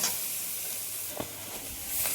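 Tomatoes hit hot oil with cumin paste in a home kitchen pan, giving a steady, close hissing sizzle with a couple of brief stirring scrapes and no talk.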